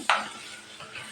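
Moong dal kachori filling roasting in a pan, with one brisk scrape of a spoon at the start and then a soft, steady sizzle and lighter stirring, close by and with no voices.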